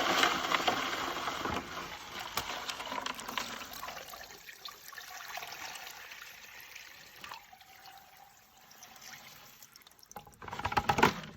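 Water pours steadily into a sample bucket being rinsed during stream macroinvertebrate sampling, a loud continuous rushing splash that eases midway and surges again at the end, with no talking.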